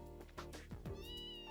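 A cute kitten in the video game Trails in the Sky the 3rd gives a short, clear meow over steady background game music.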